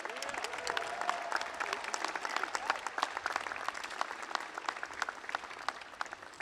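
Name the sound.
audience applause at a college commencement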